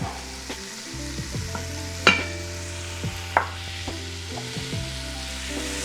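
Onion and vegetables sauté in an Instant Pot for a creamy potato soup, giving a steady close sizzle broken by sharp utensil scrapes and clacks as the food is stirred, with no talking.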